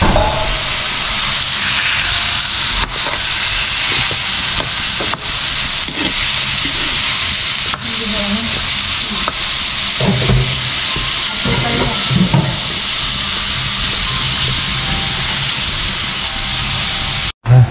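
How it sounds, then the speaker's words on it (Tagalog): Garlic sautéing in oil with butter in a pan at an outdoor hut gathering, giving a loud, steady hiss and sizzle that runs throughout, with occasional clinks and stirring scrapes. "Ginisa muna natin yung bawang sa mantika."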